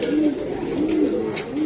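An original Lalpatti pigeon offered for sale coos close by, with a few rounded, rolling coos in quick succession.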